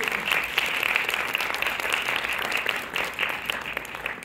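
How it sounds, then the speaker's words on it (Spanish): An audience applauds steadily at a live reading event, a dense, even wash of clapping that stays loud throughout with no voices over it. "Y ahora demos un aplauso a Adalberto Briceño,"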